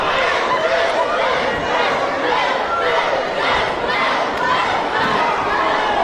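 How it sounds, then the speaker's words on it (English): A large professional wrestling crowd roars and chants in a constant, dense wall of noise, loud and sustained with no pauses. "Listen to this crowd."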